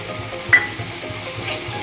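Ginger paste drops into a pan of spice masala frying with ground coriander and chilli powder, giving a steady low sizzle with one brief soft plop near the start.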